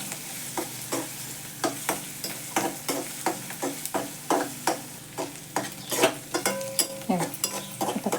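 Onion and bread are sautéed in a pan with a soft continuous sizzle, and a spatula scrapes the pan in a steady rhythm of strokes, close and clear with no talk.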